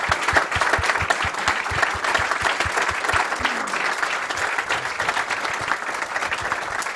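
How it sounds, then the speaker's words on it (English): A crowd at a BioInnovation Institute demo day applauds the projects, a sustained, fairly loud clatter of many hands with some sharper close claps standing out in the first half. "So a last round of applause for these wonderful projects."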